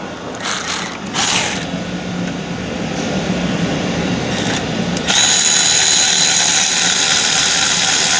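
Alloy wheel studs come out of a modified Tuff Stato car under a power tool: short bursts of ratcheting whir early on, then a long continuous high-pitched mechanical grind, loud and close.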